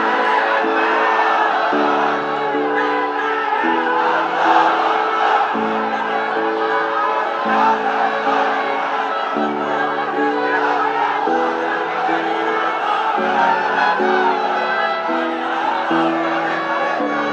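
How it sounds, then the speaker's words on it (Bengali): A crowd at an Islamic sermon calls out the takbir chant, Allahu Akbar, in loud repeated unison bursts with a steady rhythm, voices swelling and dropping over the whole stretch. "তাকবীর দেন তো একজন আওয়াজ করে।"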